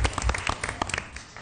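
Applause at a school board meeting, including a child clapping for her dad, as a short burst of irregular claps and taps, close and fairly loud, thinning out toward the end.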